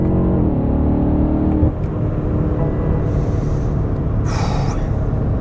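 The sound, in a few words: V8 twin turbo car engine driving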